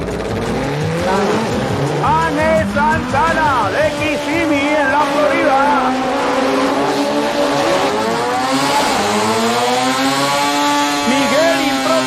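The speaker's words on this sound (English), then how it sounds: "Portela in a 73 Datsun. He's ready for his burnout." A 1973 Datsun drag race car does a burnout at a drag strip, its engine screaming through rising and falling revs with tire squeal, loud and close, while an announcer talks over it in Spanish.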